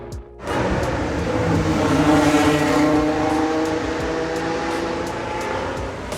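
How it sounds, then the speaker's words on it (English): Formula One cars at the Azerbaijan Grand Prix street circuit make a continuous, distant high-pitched engine drone that echoes off buildings, with the tone shifting as cars pass, heard from a walkway away from the track. "in the background, what do you hear? Formula One cars."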